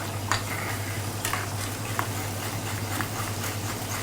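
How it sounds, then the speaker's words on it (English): Tomato sauce for fish bubbles in a pan with a steady, soft simmering hiss, broken by a few light clinks of a utensil against the pan. No voices. "So it's boiling."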